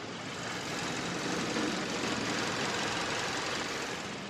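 A steady, smooth 2.4-litre gasoline engine idle from a Kia K7, recorded up close with the hood open, an even broadband hum with no revving or changes in pitch, and no voices.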